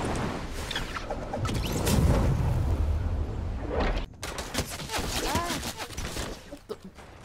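Rapid bursts of gunfire and explosions from a Fortnite Team Rumble match crackle in a dense barrage, with a boom early on and scattered shots later, while a voice talks over the action.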